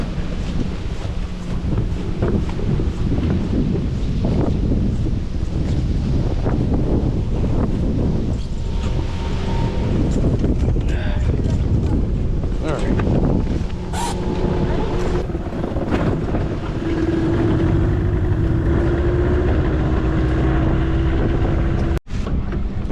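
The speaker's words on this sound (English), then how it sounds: "It's very windy out right now, so we're gonna have to make do." Strong wind buffets a fishing boat on the Mississippi River in rough, wavy conditions, a constant roaring gust noise over the mic with water slapping and a faint engine hum throughout.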